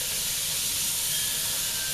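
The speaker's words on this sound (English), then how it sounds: "And next we'll put in onions and saute them." A medium yellow onion, sliced, hits a hot pan to sauté and gives a loud, steady sizzling hiss that runs unbroken throughout.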